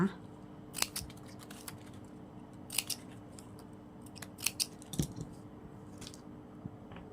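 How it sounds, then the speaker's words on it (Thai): Scissors trimming the loose ends of ribbon on a crystal lotus coin decoration, giving several crisp, brief snips spaced irregularly, close and quiet against a faint room hum. "พอเสร็จแล้วเราก็ตัดปลายริบบิ้นนะคะ"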